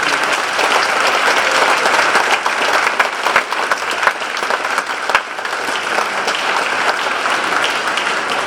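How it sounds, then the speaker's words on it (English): Sustained audience applause fills a youth assistance awards ceremony, steady and dense for the whole stretch with no voices over it. "please give a round of applause for these incredible"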